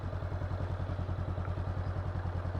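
A motorcycle creeps along slowly in the clutch friction zone with no throttle, its engine thumping in a steady, even rhythm at close range throughout, with no talk over it.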